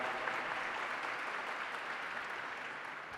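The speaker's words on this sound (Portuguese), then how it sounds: "uma salva de palmas" An audience at a solemn session for a Tiradentes Medal award in Brazil keeps up a dense, even round of applause. The clapping holds steadily throughout and eases off slightly toward the end.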